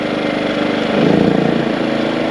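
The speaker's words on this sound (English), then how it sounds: "You heard the idle kick up a little bit, so it's definitely doing something." A generator engine runs at a steady idle while connected through a parallel kit to power an RV, its loud throbbing drone deepening and pulsing harder midway as the load comes on, close and continuous.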